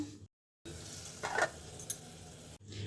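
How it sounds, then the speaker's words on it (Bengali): Spices sautéing in a covered pan on the stove give a steady close sizzle and hiss with a few brief louder crackles, broken by an abrupt silent gap near the start, with no voices. "এখন মশলাগুলো কষিয়ে নেব"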